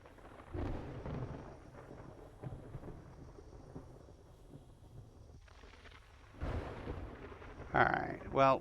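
Thunder rumbles during a storm in the survival video game 7 Days to Die, with low booming rolls recurring a few seconds apart and a sharper, louder crack near the end over steady background noise.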